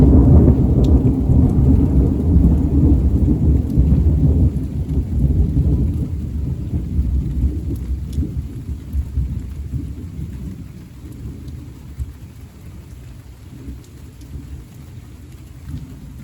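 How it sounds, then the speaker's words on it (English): Heavy rain pours steadily beside a house, with deep rolling thunder rumbling through the downpour; the storm is loud at first and eases slightly toward the end, with no voices. "lots of rain has come down the last 5 minutes or so. There's also lots of thunder and lightning."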